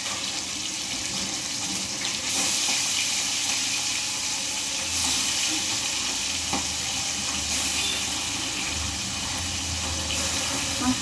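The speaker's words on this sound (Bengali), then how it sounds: "মাছটা অ্যাকচুয়ালি ফুটছে" Roe-filled fish fries in hot oil with a loud, continuous sizzling hiss that swells and spits at moments and runs steadily throughout.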